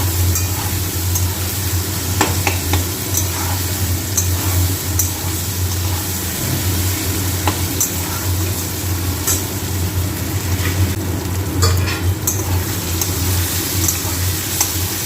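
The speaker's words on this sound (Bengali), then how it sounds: "রসুন আর লঙ্কা যেটা থেতো করে দিয়েছিলাম সেটা দিয়ে দিলাম, এবার দিয়ে একটু কষাবো" Crushed garlic, chili, turmeric and salt stir-fry in a pan for a fish-head and taro-stem dish, a steady close sizzle with scattered scrapes and clinks of the spatula and a low hum running underneath.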